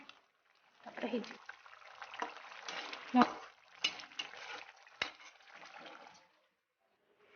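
Water poured into a curry cooking in a pot, a splashing pour that swells and fades over several seconds amid kitchen clatter and brief voice sounds.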